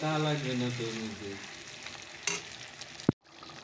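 Mutton curry fries in a pan under a soft sizzle while a spoon stirs it, with a sharp clack near the end and a faint voice at the start.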